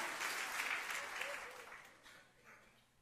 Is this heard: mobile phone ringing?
no